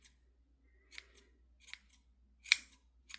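Scissors snipping yarn wound around for a pom-pom hat, several short crisp cuts spaced apart, close and quiet with no other sound.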